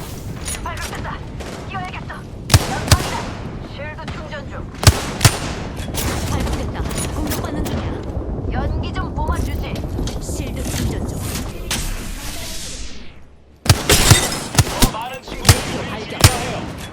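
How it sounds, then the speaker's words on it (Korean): Rapid gunfire in Apex Legends, with sharp shots and bursts, one sustained stretch of continuous firing and then several loud single cracks, all close and loud alongside other game sounds. "적을 향해 사격한다."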